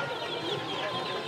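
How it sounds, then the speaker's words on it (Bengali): Egyptian-breed farm chickens clucking steadily at a busy traditional village market, a dense continuous mix of close bird calls and crowd noise. "এটা কি মুরগি বলে? ফার্মি?"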